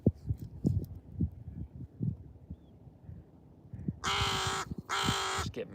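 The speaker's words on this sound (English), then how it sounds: "You get a big raven honking at you." A big raven gives two loud, harsh honking caws near the end, standing out clearly over faint low background rumble and ticking.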